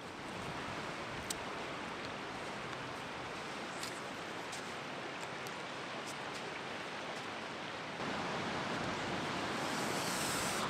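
Fast-flowing river water rushes steadily in a broad, noisy wash, close and loud, with a slight surge in intensity toward the end; no one speaks.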